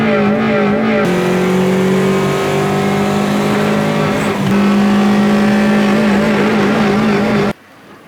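A Hyundai Accent with a faulty clutch and brakes holding a loud, sustained engine rev, the droning tone rising slightly and holding steady for several seconds before cutting off abruptly.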